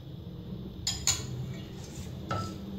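A spoon stirring plum chutney in a pan gives a few quiet metallic clinks and scrapes against the pan, spaced irregularly over a soft, low background hum.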